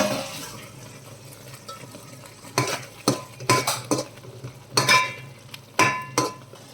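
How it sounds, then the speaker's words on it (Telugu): A spoon stirs banana and spring onion curry in a pan: after a quiet stretch, a series of scraping, clinking stirs against the pan comes in irregular bursts over a faint sizzle. "టమాటా పచ్చివాసన పోయే వరకు మూత పెట్టి ఉడికించుకుందాం కాసేపు ఒకసారి కలుపుకుందాం"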